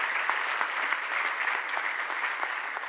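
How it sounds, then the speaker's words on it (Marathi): An audience at a Veer Savarkar Jayanti book-release function claps steadily, a dense, even burst of applause heard throughout with no speech over it. "टाळ्या तर छान वाटतात"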